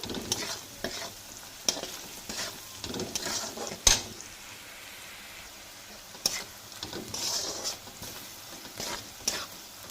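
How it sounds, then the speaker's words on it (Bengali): Onion fries in a pan for chow mein while a spatula scrapes and stirs in irregular bursts over a soft, constant sizzle, fairly quiet and close. "পেঁয়াজটা অল্প লাল লাল ভাজা হয়েছে"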